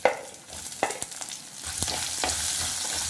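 Small shallots dropped into hot oil already crackling with whole spices such as cloves, bay leaf and cinnamon, sizzling steadily with sharp clinks of a spoon stirring against the pan; the hiss swells louder as the shallots land.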